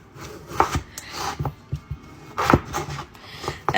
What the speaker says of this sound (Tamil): இதெல்லாம் கிழங்கு வெட்டுவோம்